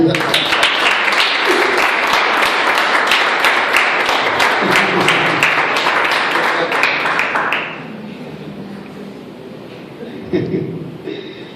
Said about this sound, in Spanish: Un aplauso a Dios.